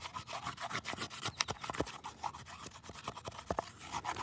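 A beveled cedar stick scrapes boiled-down sea salt from inside a water bottle, giving a rough, irregular run of close rasping strokes with sharper scratches, alone and fairly quiet.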